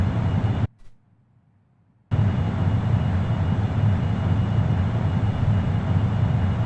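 DG-S spacecraft scramjet engines in the Orbiter 2016 simulator at high altitude and high Mach, a steady, dense roar that cuts out to near silence briefly, then returns at full strength.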